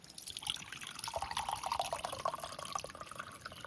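Lemon water is strained, pouring through in a continuous close trickle with small drips and splashes.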